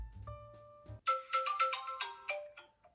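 A mobile phone rings with an incoming call, playing a bright electronic melody of quick, close tones after a short lower musical lead-in, with no speech.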